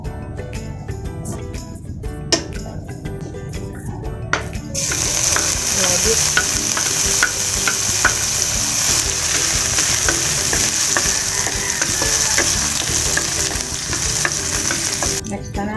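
Cooking oil sizzles in a pan while chop suey is being made, with a quieter stretch of clinks and scraping before a loud, steady frying hiss sets in and continues throughout.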